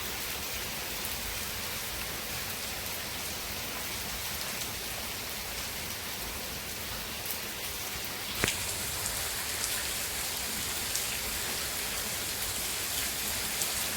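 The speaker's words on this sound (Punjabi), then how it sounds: "ਮੌਨਸੂਨ ਦਾ ਇਹ ਪਹਿਲਾ ਮੀਂਹ ਆ" Steady monsoon rain falls continuously in Punjab, a soft dense patter on surfaces with a single sharper knock partway through; no voices.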